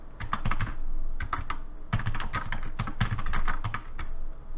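Close, steady typing on a computer keyboard: quick runs of crisp key clicks in short bursts with brief pauses, with no talking.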